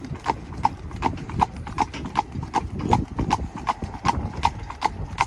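A Friesian mare pulls a carriage, her hooves clip-clopping in a steady, even rhythm on a hard road, close and clear, with voices talking underneath.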